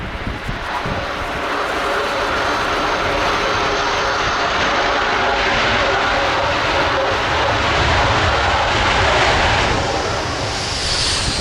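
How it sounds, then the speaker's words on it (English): A jet airliner touches down at an air show on a windy day and roars under maximum thrust reverse, a loud, sustained broadband rumble and hiss holding steady throughout with no talk over it. "Yep, that's maximum thrust reverse."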